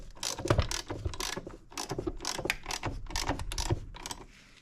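A case-splitting tool is tightened by hand on Suzuki RM-Z250 engine cases, repeated ratcheting clicks and metallic creaks in several short bursts with brief pauses, close and moderately quiet, no voices.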